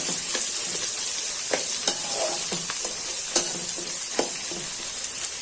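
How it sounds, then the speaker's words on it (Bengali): Onions sizzle steadily in hot oil with fried spices for a chicken and pea curry, with sharp scrapes and clicks of a spoon stirring the pan up close. "পেঁয়াজটা ভাজা হয়ে যাক লাল লাল করে।"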